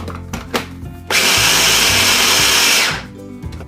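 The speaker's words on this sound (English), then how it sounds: "Now dry grind it." Green peas dry ground in a kitchen grinder: a few clicks, then one loud, harsh whirring burst of about two seconds that cuts off abruptly.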